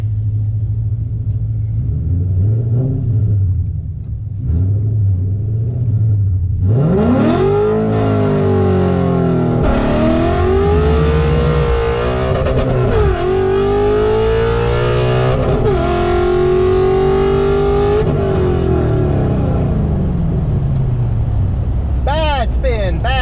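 A Coyote V8-swapped Fox body Mustang accelerates hard, the engine roaring loud and close as its pitch sweeps up through several gear changes over a sustained run.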